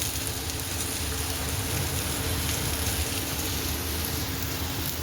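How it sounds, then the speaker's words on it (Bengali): Steady rain falling outdoors, a dense continuous hiss of drops with a low rumbling undertone, unchanging throughout, with no voices. "বুঝতে পারছো, বৃষ্টি এখনও পড়ছে।"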